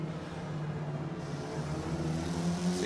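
A Hyundai touring car engine in the Forza Motorsport racing game hums with a low, steady drone that swells slightly toward the end, heard alone with no talking.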